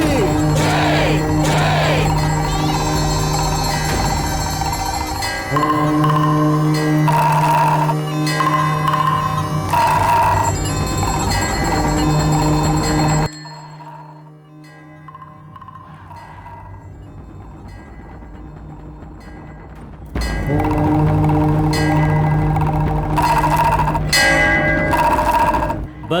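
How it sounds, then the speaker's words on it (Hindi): A temple bell and nagara drum sound during a Hindu puja, with dense, loud, continuous ringing and tonal clangour that drops away briefly midway and then returns at full strength. "घंटी और नगाड़ा बजाओ"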